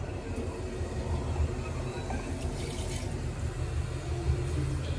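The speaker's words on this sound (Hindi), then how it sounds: "चलो इसमें जाएगा थोड़ा सा पानी।" Water poured into homemade tamarind chutney in a home kitchen, a steady soft splashing and trickling wash that runs evenly throughout at moderate volume, with no talking.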